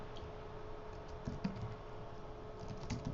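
A server name typed on a computer keyboard, with quick, light key clicks in an irregular run, close and fairly quiet, continuing throughout.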